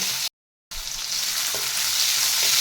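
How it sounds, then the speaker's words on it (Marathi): Chopped green chillies fry in hot oil with cumin and asafoetida, a bright continuous sizzle with a few soft stirring knocks, close and steady after a short silent gap near the start. "1 मिनिटभर मिरच्या भाजून घ्यायच्या"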